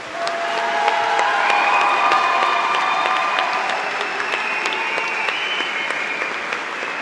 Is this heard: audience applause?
yes